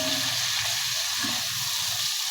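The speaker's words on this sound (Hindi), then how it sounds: "चिकन फ्राई हो रहा है।" Chicken pieces frying in a pan with salt, red chilli, turmeric and ground coriander, a steady loud sizzling hiss throughout, close up.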